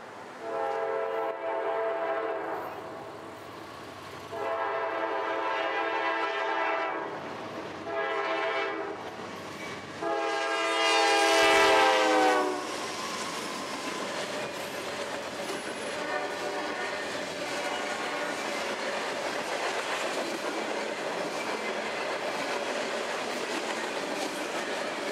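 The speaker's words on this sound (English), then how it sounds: "Next came a local out of Gainesville with a pair of Dash 9s running elephant style." A freight local with a pair of Dash 9 locomotives running elephant style passes close by, sounding several long horn blasts over the first twelve seconds, then a steady roar of rolling wagons continuing to the end.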